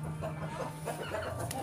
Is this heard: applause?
no